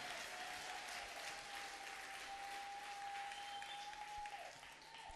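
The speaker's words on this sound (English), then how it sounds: "If you understood it, give it a great hand clap." A church congregation claps together in sustained applause, a steady wash of hand claps running the full length at moderate distance, easing off slightly near the end.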